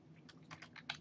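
Fingers type on a computer keyboard, tapping out a short burst of quick, light, close keystrokes at an irregular pace.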